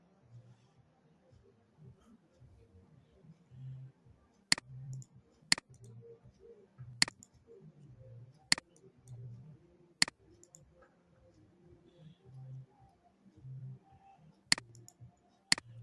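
Sharp, distinct mouse clicks in ProtaStructure 2021 steel truss editing, about seven in total and irregularly spaced, standing out over a low murmur of faint background talk.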